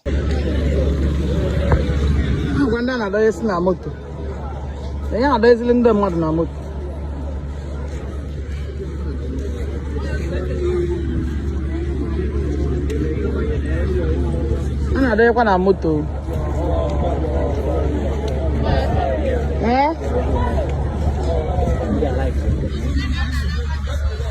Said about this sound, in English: Just look at the crowd that have come.